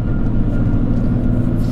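Loud, steady low rumble of road noise from the rear of an R53 Mini Cooper on the move, a constant droning hum with tyre roar and no talking.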